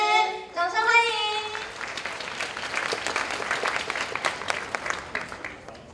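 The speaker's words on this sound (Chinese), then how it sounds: "让我们以热烈掌声欢迎陈瑞文陈老师以及陈文茜陈老师， 掌声欢迎。" Audience applause welcoming lecturers at a university lecture, a brief voice at the start followed by sustained clapping from a crowd in a hall.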